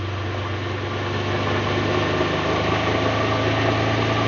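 A Keeway MBP M502N motorcycle engine runs steadily at 4000 rpm on a dynamometer, a continuous mechanical drone with a strong low hum, even and unchanging throughout.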